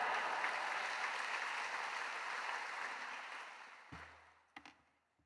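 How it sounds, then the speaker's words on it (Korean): A congregation applauds to welcome a pastor at an early-morning church service, a broad, even roar of clapping that slowly fades out, ending in a few last scattered claps and faint taps. "박수로 맞이하겠습니다"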